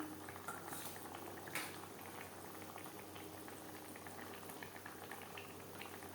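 Tilapia fish curry gravy at a steady boil, with continuous low bubbling and popping close by, fairly quiet, with no voices.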